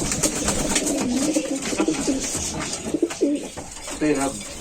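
Racing homing pigeons coo at a pigeon farm that also keeps ornamental birds, giving low, throaty, repeated coos close by over a steady background hum and rustle.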